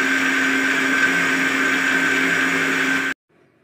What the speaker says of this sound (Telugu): వేసేసి కొంచెం అవసరమైతే వాటర్ పోసేసి మళ్ళీ ఇంకొకసారి మిక్సీ పట్టుకోవాలి